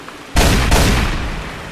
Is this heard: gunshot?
yes